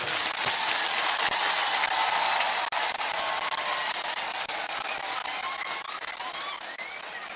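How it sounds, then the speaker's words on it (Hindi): Audience at a live gathering breaking into sustained, dense applause, loud and steady from start to finish with no talking over it. "सबसे बड़ा ताली आपको होना चाहिए।"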